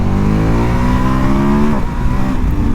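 The V2 engine of a 2021 KTM 1290 Super Adventure S revs hard and rises steadily in pitch. An electronic quickshifter then cuts in and the pitch drops sharply to a lower gear. The engine is loud and close, and nobody speaks.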